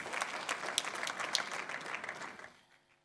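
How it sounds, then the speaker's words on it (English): An audience applauds at a live public event, a dense steady round of clapping at moderate distance that fades away to near silence over the last half second. "A round of applause for that,"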